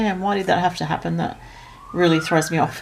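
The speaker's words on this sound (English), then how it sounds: "sorry about the siren in the background" A siren wails in the background, a rising tone sweeping up under and between stretches of close speech, faint and steady rather than loud.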